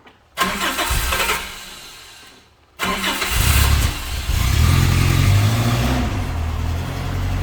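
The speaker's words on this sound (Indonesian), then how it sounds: "Sekarang coba dinyalakan untuk mesinnya." A car engine cranks and catches, dies briefly, then starts again and settles into a steady rumbling idle close by.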